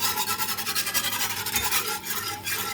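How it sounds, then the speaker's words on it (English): A whisk scrapes rhythmically against a pan as wine vinegar is worked into a sauce for octopus, quick steady strokes close and fairly quiet with no talking. "So this is some wine vinegar. Just gonna add a tad bit. Whisk it in."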